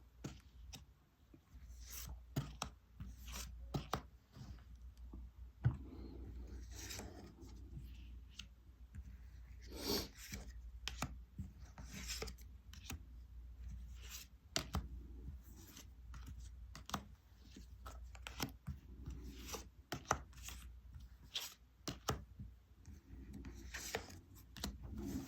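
Tarot cards shuffled by hand over and over, a close, steady run of crisp riffling clicks and soft rubbing slaps with no voice.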